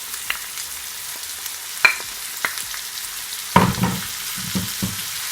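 Callaloo going into a hot pan for Jamaican coconut saltfish fried rice, a soft steady sizzle broken by several sharp clacks and scrapes of a utensil stirring, close and with no voices.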